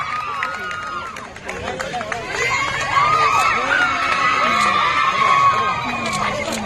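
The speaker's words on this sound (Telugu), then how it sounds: "అగో మంత్రి మేడం ఇట్లా కబడ్డీ కూతకు పోగానే ఆడున్నోళ్ళు అంతా కూడా అరుపులు కీకెలు పెడబొబ్బలు పెట్టిర్రు" A crowd of girls shouting and cheering during a kabaddi raid, loud continuous overlapping high voices that swell and stay intense, heard close with mixed chatter.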